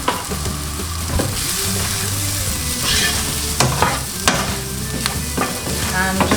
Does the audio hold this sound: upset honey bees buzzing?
no